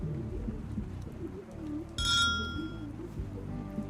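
A large cowbell above a door and an electric doorbell inside the house ring together in the video game Rue Valley, heard as a short bright metallic ring that stands out from a quiet, low-pitched ambient hum.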